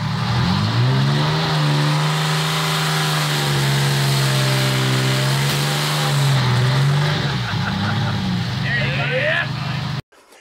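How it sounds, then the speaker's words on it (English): An aluminum Slant Six engine runs loud on a dyno, a steady droning roar that rises and settles in pitch over several seconds before cutting off abruptly near the end, with voices faintly underneath. "I did a dyno test on aluminum Slant Six, and the damn thing blew a head gasket"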